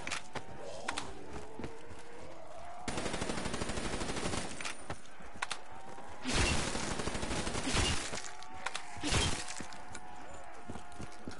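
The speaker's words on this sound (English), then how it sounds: "I love the headshot sound." Automatic and single gunfire bursts in the Shadows of Evil zombies game, with sharp impact hits among the shots, loud and close over a busy game-sound bed, with bursts at intervals and no talk.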